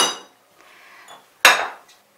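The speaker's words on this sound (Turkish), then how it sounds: "Pirincimi de ilave ediyorum karıştırma kabıma." Soaked rice, two glasses' worth, tipped into a mixing bowl with grated vegetables for stuffed cabbage rolls, giving two short clattering bursts of grains and bowl contact, the second sharper and louder, with quiet pauses between.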